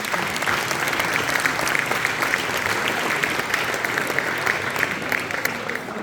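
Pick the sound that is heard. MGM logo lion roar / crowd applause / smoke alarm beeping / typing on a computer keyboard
crowd applause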